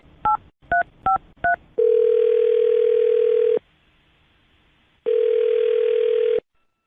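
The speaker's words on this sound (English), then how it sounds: "I'm going to dial his phone number right now and get him on the phone" Four quick touch-tone beeps of a phone number being dialed, followed by two long, steady ringing tones separated by a pause, clear and close as a radio show calls a listener.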